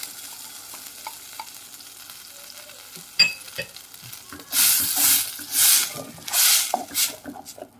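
Blended tomato and carrots hit hot spices in a pan for Swahili chicken biryani, starting quiet with a clink, then erupting into loud bursts of hissing sizzle as the mixture is stirred.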